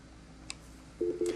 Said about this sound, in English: anytime you're going to access outside dial tone, you have to hit the digit 9